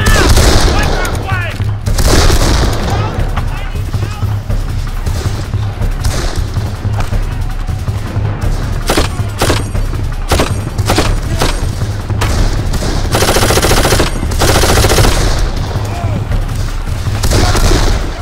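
Constant loud gunfire in the Darkest of Days video game, a dense mix of volleys, rifle cracks and heavy booms with no pauses, set in a cornfield battle.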